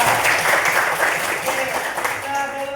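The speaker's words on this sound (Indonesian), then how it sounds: "berikan tepuk tangan" A classroom claps for a student in a physics lesson on measuring tools, a dense steady burst of applause from many hands, close and lively, with a few voices mixed in.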